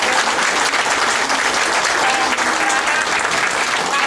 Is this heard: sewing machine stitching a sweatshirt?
no